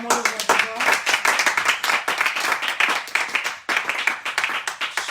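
A church congregation at a French-language service claps in praise of the king of glory, with dense, rhythmic applause running throughout under singing and voices.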